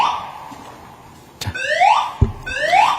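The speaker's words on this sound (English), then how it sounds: "Someone just pulled the fire alarm on the forum." A building fire alarm sounds during a forum event, with repeated loud rising sweeps and sharp clanks over a low room hum. No talking.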